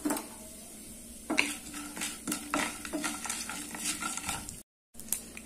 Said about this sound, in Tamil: பாருங்க கடுகு நல்லா பொரியுது